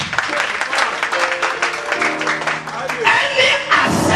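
A church congregation at a prophetic message service claps in a loud, dense round of applause, with voices and shouts mixed in throughout.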